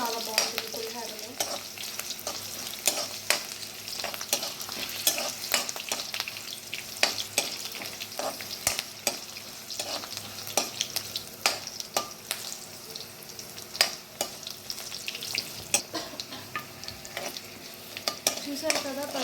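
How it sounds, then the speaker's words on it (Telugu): Green chillies and dried red chillies sizzle and crackle steadily in hot oil for pulihora, with frequent sharp pops and occasional stirring clinks, close and continuous throughout. "పచ్చిమిర్చి బాగా ఎర్రగా వచ్చేంత వరకు వేయించుకోవాలి"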